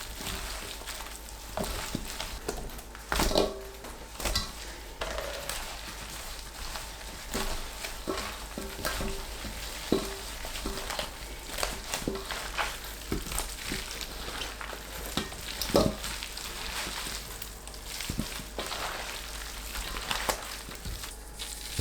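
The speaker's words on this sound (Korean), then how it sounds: "양념은 2큰술 정도 남겨두고 무에 버무려 주시면 돼요." Chunks of ponytail radish are mixed by hand into kimchi seasoning, giving a continuous wet squelching and rustling with scattered crunchy bursts, close up and moderately loud throughout.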